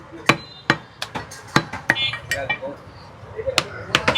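A butcher chops beef with sharp, ringing whacks of the blade on the block. The blows come roughly every half second, then a lull, then a few more, with faint voices in the background.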